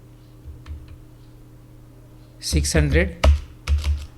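Keys on a computer keyboard tapped as a rate is entered into a purchase-order form, a few faint clicks early on and then a voice speaking in Hindi over the rest.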